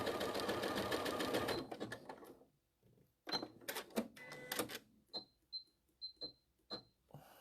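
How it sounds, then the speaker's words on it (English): Sewing machine running a wavy stitch over lace, a loud continuous mechanical whirr at first, then short stop-start bursts of stitching with small clicks and pauses between them. "it's going to do a wavy stitch over the top of that lace"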